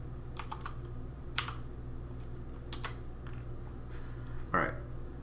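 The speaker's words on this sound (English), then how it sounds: "We'll just type CD." Computer keyboard typing, a few sharp close clicks in short bursts over a low background hum, quiet and alone.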